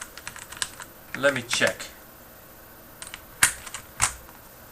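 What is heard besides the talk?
typing on mechanical keyboard with Cherry Brown tactile switches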